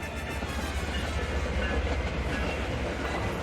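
A train rolls along in a magic-world video game, a steady close rumble with rhythmic clickety-clack running the whole way through, with no talking.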